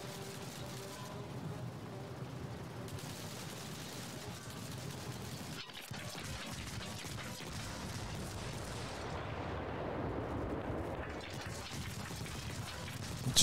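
Tank gunfire in the video game Armored Warfare booms repeatedly under a constant roar of engine and battle noise, with a sharp blast near the middle and a dense, steady rumble throughout.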